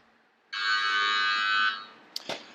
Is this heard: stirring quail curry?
no